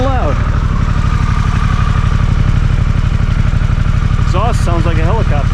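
Harley-Davidson Pan America 1250, a water-cooled motorcycle, idling with a steady rapid thumping exhaust pulse, loud and close, with a voice briefly heard over it.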